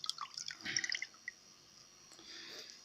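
A few small drops of salt water drip from a waterlogged GoPro Hero 5 camera in quick succession, faint and close, followed by near silence.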